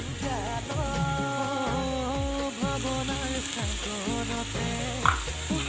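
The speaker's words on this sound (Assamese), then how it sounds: "হালধি অকণমান দি লৰাই দিওঁ" Turmeric stirred into a frying mixture of big leafy greens and jackfruit seeds in a pan, giving a steady close sizzle with repeated scraping stirs running throughout, no voices.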